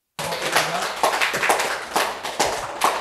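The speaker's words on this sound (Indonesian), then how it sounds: "Boleh tepuk tangan." A class claps after a group's presentation, a short round of applause from a small room of students with uneven, pulsing hand claps that starts abruptly and keeps going.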